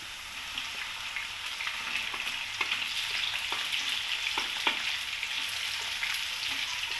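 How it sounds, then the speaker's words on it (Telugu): Eggplants frying in a little oil give a steady, close crackling sizzle with scattered sharper pops throughout, and no voices. "కొంచెం నూనెలో వేగిన తర్వాత ఈ వంకాయలన్నీ ఇట్లా వేసుకోవాలి"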